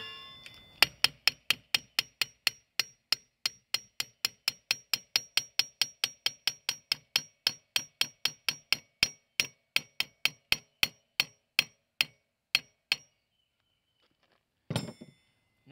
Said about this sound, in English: and hammer it back in.